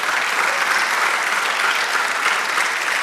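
A church congregation applauds together during a sermon, a dense, steady clapping that fills the room without pause.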